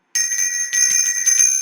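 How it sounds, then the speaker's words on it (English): A bright notification bell rings in quick repeated metallic chimes, loud and close, starting after a brief silence and continuing to the end. "ring that notification bell."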